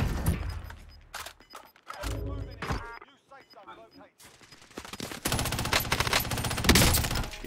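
Rapid M16 rifle fire in a video game crackles in dense bursts, with quieter gaps between them and a long, loud automatic volley near the end. A voice talks faintly underneath.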